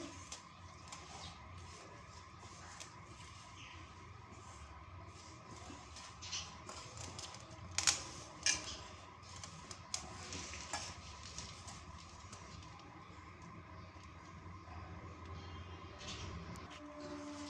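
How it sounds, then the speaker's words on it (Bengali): Ingredients with a pinch of fennel seeds and a little oil are worked together by hand or spoon: soft, uneven scraping and mixing sounds, quiet and close, with a few louder knocks midway and no speech. "তেলটা দিয়ে খুব ভালো করে এটা মিশিয়ে নেবো আগে।"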